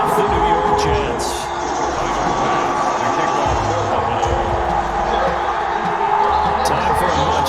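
Stadium crowd noise from a Madden NFL video game, a Bills home game in Buffalo against the New York Jets, heard as a loud, steady roar with rumbling low-end and occasional swells throughout.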